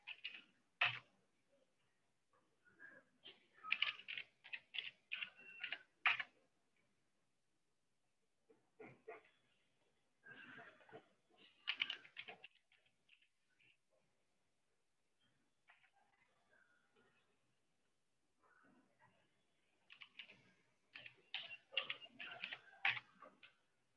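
Keys click on a computer keyboard as a password is typed, in quiet, rapid clusters of taps separated by pauses, close and faint.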